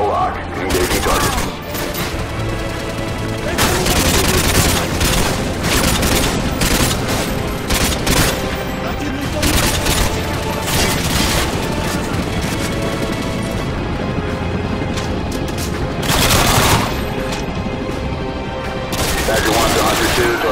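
Sustained gunfire from the Xbox 360 game Modern Warfare 2, Spec Ops mission Wardriving, as a target is engaged: dense, loud bursts of shots running almost continuously, with heavier volleys and crashes standing out near the end.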